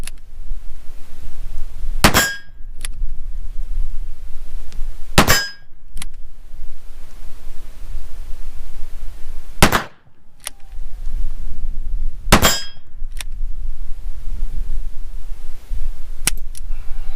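A handgun fires heavy 240-grain semi-wadcutter loads at an outdoor range. About five sharp, loud single shots land several seconds apart, each a metallic crack, over steady background rumble.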